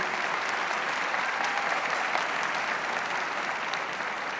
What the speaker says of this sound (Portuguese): Uma salva de palmas a Patrícia Amorim